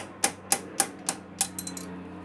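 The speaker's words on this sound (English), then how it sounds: "You go from below and hit up to get it free." An old steering head bearing ring is driven out from below with a hammer: five sharp, evenly spaced metallic blows ring out up close, followed by a few lighter, quicker taps.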